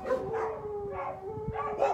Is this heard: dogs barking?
yes